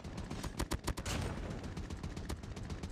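Gunfire in the mobile shooter COD Mobile comes as rapid, loud bursts of automatic shots, a dense close-up volley with sharp cracks early on and continuous firing after.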